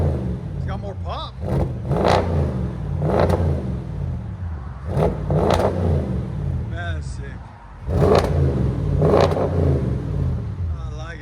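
Audi S7 widebody with a 4.0L twin-turbo V8 and muffler delete, revving in sport mode: repeated loud throttle blips rise and fall in bursts, with someone talking over the engine throughout.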